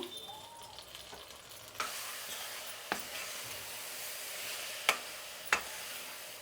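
A spoon scrapes and stirs boondi through sugar syrup in a pan for motichoor laddu, a soft bubbling hiss underneath and a few sharp clicks of utensil against metal, close and fairly quiet.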